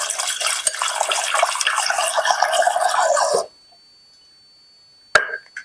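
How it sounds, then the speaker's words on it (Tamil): Small cut pieces of aloe vera are washed by hand under running water, a steady splashing stream for about three seconds that stops abruptly, followed by silence and one short splash. "இந்த மாதிரி சின்ன சின்ன துண்டாக போட்டுட்டு மிக்சியில் அடிப்படுற மாதிரி இதை ஒரு 2 முறை கழுவிடுவோம்"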